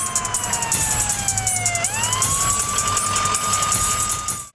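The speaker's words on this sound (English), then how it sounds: "And then comes the ambulance." A loud wailing ambulance siren sweeps down and back up in pitch, passing close with a rapid pulsing undertone.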